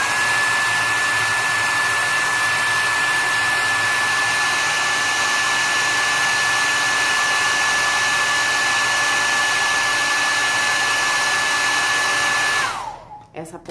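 A hair dryer blows steadily on a plaster restoration piece, a loud continuous whooshing hum that holds without a break for about thirteen seconds before cutting off abruptly near the end.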